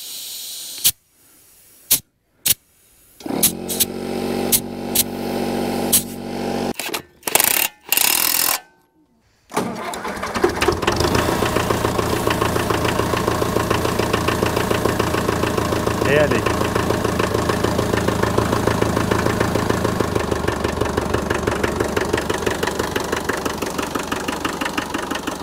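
A tractor engine runs during a hay harvest, first in broken bursts amid clatter and pauses, then settling into a loud, steady, close-up chugging idle that continues throughout; people talk over it.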